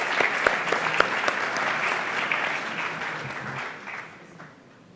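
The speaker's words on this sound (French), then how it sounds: "je pense qu'on peut applaudir l'assistance." Conference audience at a supply-chain blockchain event breaks into steady, dense applause, loud and even at first, then fading away toward the end.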